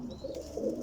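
Pigeons coo softly and steadily in a brief, moderately close burst of low, throaty calls from a flock of Iraqi homing pigeons, with no talk over them.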